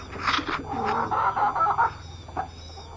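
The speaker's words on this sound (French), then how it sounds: "Ici il y a des pigeons et des poules." Chickens cluck and squawk nearby in short bursts, with softer pigeon calls mixed in, then trail off into quiet.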